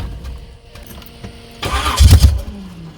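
A V8-swapped Blazer engine idles low and close, then gives a loud, rumbling burst as it is shifted into gear, settling back to a steady lower drone.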